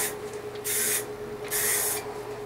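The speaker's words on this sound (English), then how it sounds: "you want to start from the outside and spray across" Spray paint can spraying motorcycle parts, two short hissing bursts about half a second each with a brief pause between, close and fairly loud.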